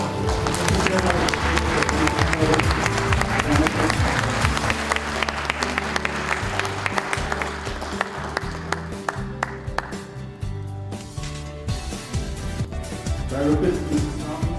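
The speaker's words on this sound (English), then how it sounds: "Let's have a round of applause." Crowd applause at a 25th anniversary celebration, sustained loud clapping from many hands with music and a voice over it, fading somewhat toward the end.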